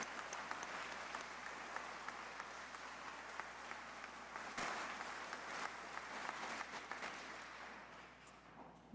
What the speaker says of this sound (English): Let's give all of our high school winners a big round of applause.